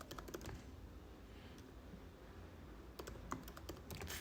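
A text prompt is typed on a computer keyboard, with quiet bursts of clicking keystrokes near the start and again toward the end, separated by a soft lull.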